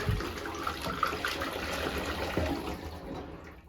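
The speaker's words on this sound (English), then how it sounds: "So then pour some water down this" Water is poured into the gas tank of a 1985 Suzuki RH250 being cleaned, a faint steady splashing and gurgling that fades toward the end.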